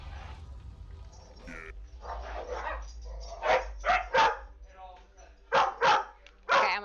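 A dog barks loudly and close by in short repeated bursts, with a couple of sharp doubled barks, while a person talks over the top.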